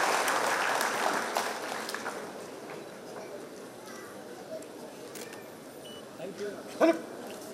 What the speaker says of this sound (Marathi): सर्वांनी टाळ्या वाजवाव्यात जोरदार